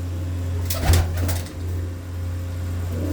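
Pigeons in a loft give a few brief coos near the start, set against a steady low electrical hum that continues throughout.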